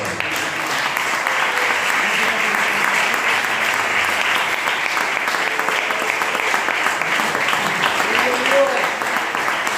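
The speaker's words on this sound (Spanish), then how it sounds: "Den un aplauso al Señor" A church congregation applauding, a dense, steady wash of loud clapping from many hands throughout, with voices faintly mixed in.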